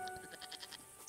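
A goat in the video game Broken Sword 5: The Serpent's Curse gives a faint, short bleat over a quiet background hum.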